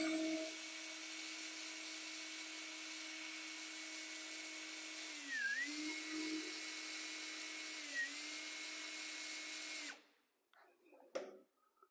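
A power drill drives into wood while building a chuck wagon top for a 1927 Ford T, whining steadily and close up and dipping briefly twice under load before cutting off near the end.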